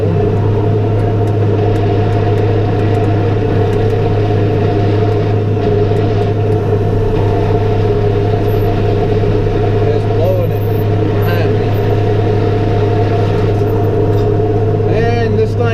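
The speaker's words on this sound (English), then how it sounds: "Does chatter quite a bit when it's hooked to this straw blower" A New Holland T5.120 tractor drives a Teagle Tomahawk straw blower through its PTO on a very windy day, a loud, steady engine drone with chattering machinery running continuously throughout, up close with wind noise.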